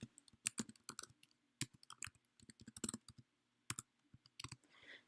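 Rapid, irregular keystrokes on a computer keyboard while entering text into a map tool, crisp close clicks in uneven bursts with short pauses, ending in a softer rustle.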